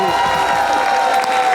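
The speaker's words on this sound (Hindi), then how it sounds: "put your hands together for Shaista Lodhi" Studio audience applause and light cheering greeting a guest on a Pakistani comedy TV show, a short, loud, continuous burst with voices mingled in.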